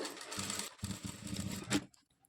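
A sewing machine runs in short bursts while stitching piping onto a blouse neckline, producing a fast, close mechanical rattle that pauses briefly and then falls silent near the end.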